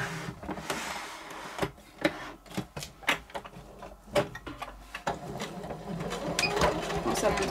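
A sewing machine stitches fabric for a small hand sanitiser gel pouch, giving quiet irregular bursts of rapid mechanical clatter with pauses and clicks, close but faint.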